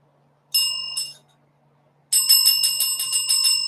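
A bell rung to acknowledge a paid super chat during a Sunday night live stream: two quick bright rings, a pause, then a rapid series of repeated rings, loud and close with no talking over them.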